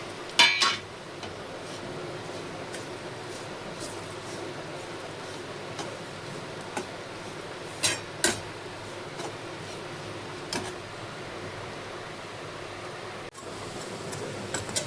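Dried fish (sukat) and onion cook in a pan with a soft steady frying hiss, while occasional spoon scrapes and clicks against the metal come at irregular intervals.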